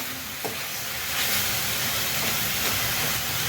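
Garlic and ginger frying in hot oil for a spicy potato curry, giving a steady, loud broadband sizzle and hiss that swells after the first second and carries on throughout, with a brief clink near the start.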